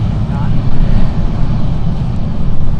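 An airliner from Hamburg arriving at Frankfurt Airport makes a loud, close, steady roar of engine and wind noise that fills the whole moment without letting up.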